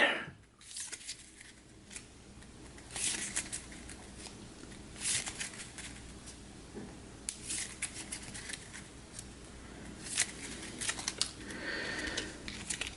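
Players shuffle a deck of Hero Realms cards by hand, giving soft, papery riffling and flicking bursts that come and go at close range over quiet room noise.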